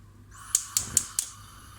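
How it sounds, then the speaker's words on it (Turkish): A gas stove igniter clicks four times in quick succession as the burner is switched on, sharp close ticks over a quiet background. "Şimdi ocağımı açıyorum."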